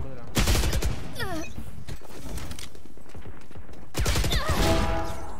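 Bursts of rapid automatic rifle fire from the shooter game Valorant, loud and close, in two volleys separated by quieter game sounds, with a player talking between them.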